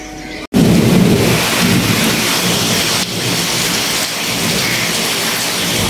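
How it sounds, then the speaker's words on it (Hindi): Heavy rain pours steadily with rolling thunder throughout, a loud, dense downpour that starts abruptly after a brief silence and continues without talk. "इतनी तेज बारिश हो रही है लास्ट 15 मिनट से"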